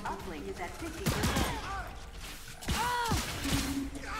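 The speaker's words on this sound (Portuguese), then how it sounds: "O tiro alternado da shotgun é muito da hora!" Shotgun alternate fire in the shooter game LawBreakers, heard as two loud, sharp blasts about a second and a half apart, amid game effects and short voice sounds.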